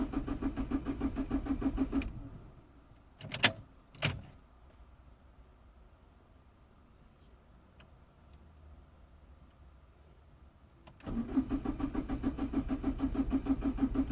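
Citroën C3 1.4 HDI diesel with a fuel pressure fault idling, then cut off with a couple of sharp clicks before a quiet pause; the engine then cranks and restarts into a steady, close rumbling idle.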